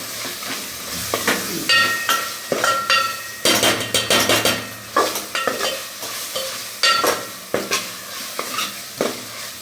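Tomatoes frying in a pan for a dhaba-style chicken curry, stirred with a utensil that scrapes and clinks against the metal in repeated strokes over a steady close sizzle.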